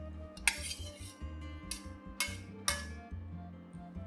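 A spoon mixing braised abalone and mushrooms in sauce in a pan, clinking sharply against the metal four times with scraping and stirring in between, close and clear with a low steady hum beneath.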